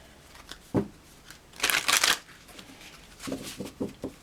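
Tarot cards shuffle in a quick riffling burst at close range, followed by a few soft slaps and flicks as cards are drawn and set down.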